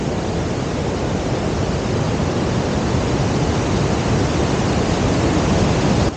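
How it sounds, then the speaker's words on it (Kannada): Arbi (Parapadi) waterfall near Nitte, Karkala, Udupi, water crashing fast onto rocks: a loud, steady, broadband roar that holds unchanged throughout, with no voices over it. "ಬಂಡೆಗಳಿಗೆ ತಾಗಿ ಅತಿ ವೇಗವಾಗಿ ನೀರು ಬೀಳೋದಕ್ಕೆ ಅರ್ಬಿ ಅಂತಾರೆ"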